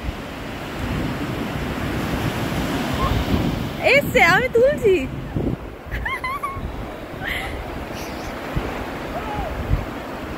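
Sea waves wash onto Rushikonda beach in Vizag with a steady rushing surf and wind buffeting the microphone, while people speak and call out briefly in the middle.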